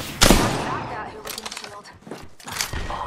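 Gunfire in the video game Apex Legends: a sharp burst at the start, followed by scattered quicker shots and impacts mixed with game effects, fairly loud and close.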